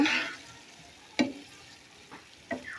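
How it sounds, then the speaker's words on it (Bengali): Prawn malai curry is stirred and fried in a pan over low heat, with a low steady sizzle punctuated by three sharp spatula scrapes against the pan, fairly close. "এভাবে নাড়াচাড়া করে কিছুক্ষণ কষিয়ে নেব"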